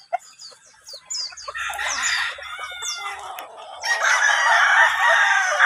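Gamecock roosters, including Boston Roundheads, crow repeatedly amid clucking hens on a game farm in San Pablo, Batangas, several birds near and far, with a low murmur beneath.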